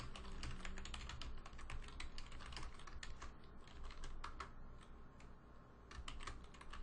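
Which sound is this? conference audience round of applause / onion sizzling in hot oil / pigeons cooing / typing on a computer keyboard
typing on a computer keyboard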